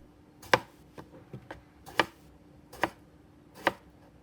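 A knife chops an eggplant into thick pieces on a cutting board, with about seven to eight sharp, close knocks at an irregular pace and a few softer taps between them.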